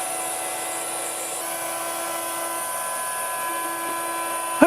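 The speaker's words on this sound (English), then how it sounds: "it's time for the Stepcraft CNC router and a chunk of aluminum" A Stepcraft CNC router machining an aluminum spacer gives a steady high-pitched spindle whine with faint cutting noise, continuous and close, ending in a brief sharp knock.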